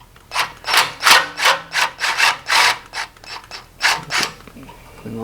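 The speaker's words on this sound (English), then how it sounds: "we're just going to head and use our socket to break it loose" Socket wrench working back and forth on a rear shock absorber bolt during a Skyjacker M95 shock install, giving about a dozen rhythmic rasping strokes, close and fairly loud, with no talking.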